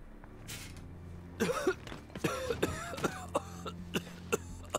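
Coughing in Marvel's Spider-Man after a truck crash, a character hacking in a run of harsh, close bursts that continue in short repeated coughs.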